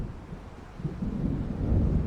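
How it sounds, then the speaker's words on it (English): Thunder from an approaching storm in the video game Alan Wake rolls low and rumbling, swelling louder toward the end over a steady wash of wind or rain noise. "It seems there's a storm coming."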